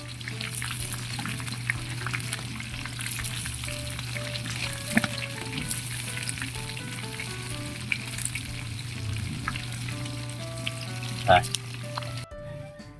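A pork chop fries in a pan with a continuous, even sizzle lasting throughout, accompanied by a faint steady tonal hum in the background.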